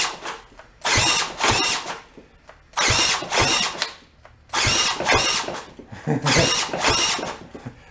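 An electric drill cranks a homemade tractor's salvaged engine in four separate loud bursts, each a whirring, straining spin that stops without the engine catching, with short quiet pauses between.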